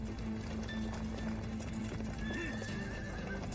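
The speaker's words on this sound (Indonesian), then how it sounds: "Tiga suara berat dan satu suara ringan dari kuku kuda, dan kuda-kuda itu tidak berlari cepat." Horse hooves clip-clop at a slow, unhurried trot, a mix of heavy and lighter steps from a mounted troop of warm-blooded horses, with a whinny rising over the steady rhythm; no talking.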